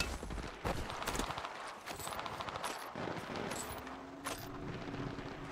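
Rapid bursts of gunfire in Apex Legends Mobile, sharp cracks and fusillades repeating throughout, close and loud amid chaotic battle noise.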